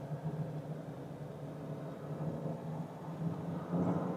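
A 2021 Jeep Gladiator's diesel engine idles with a steady, smooth low rumble, growing slightly louder near the end as it is revved a little.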